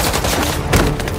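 Heavy gunfire from armed paparazzi in the Spider-Man 2 video game forms a dense, continuous barrage of overlapping shots, loud and close.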